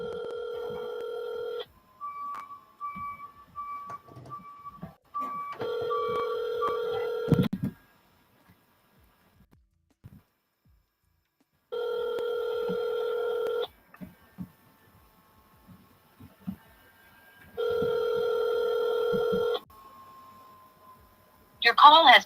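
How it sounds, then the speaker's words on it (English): Telephone call placed with bursts of keypad dialing tones followed by repeated ringback tones, with brief talk in between. "go ahead and make that call if that's what you're doing."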